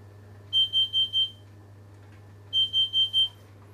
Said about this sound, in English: Just switch the timer off.